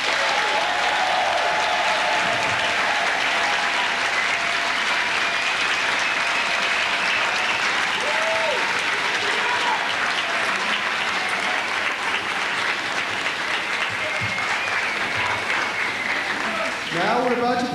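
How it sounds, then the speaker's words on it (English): Long, sustained audience applause at the Ig Nobel Prize ceremony for the junior scientists, a thick, even roar of clapping with faint cheers and voices mixed in, then a brief louder voice near the end. "round of applause for the junior scientists"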